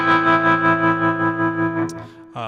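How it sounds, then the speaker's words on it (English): An electric guitar played through a surf-style effects preset in Ableton gives sustained, chorused and distorted chords with a wavering tremolo pulse, ending in a brief click and a fresh strummed chord. "This is my surf sound."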